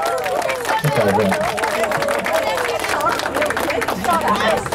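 Guests clap in applause at a party in Sapopemba, São Paulo, a busy spatter of hands mixed with crowd chatter and voices throughout.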